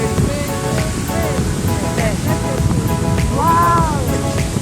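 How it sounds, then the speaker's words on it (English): Ocean surf washes up onto a sandy beach at a coconut village, a steady loud rush of water with breezy wind noise, while voices talk and call out excitedly over it. "the water is coming. See, the water is running."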